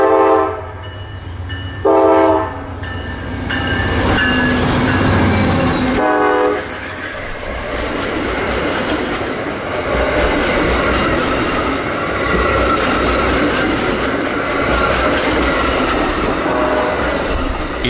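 A freight train rumbles past up close beside a siding with two short horn blasts near the start, then a long steady roar of rolling cars and rattling wheels.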